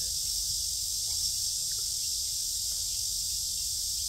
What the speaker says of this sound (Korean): 오늘따라 매미 소리가 상당히 크게 들리는데